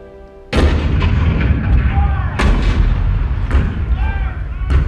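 Cannon fire at Fort Sumter in 1861: a sudden heavy boom followed by repeated loud blasts and rumbling, with booming reports recurring every second or so over a dense low roar, close and powerful.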